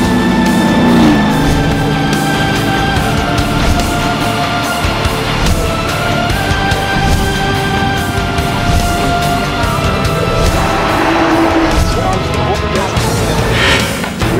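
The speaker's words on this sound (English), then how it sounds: "We are currently at the racing circuit of Zandvoort in Holland, and today I'm gonna race." Race cars at the Zandvoort racing circuit in Holland, a steady loud engine drone with sustained tonal whine and rising passes near the end, running continuously throughout.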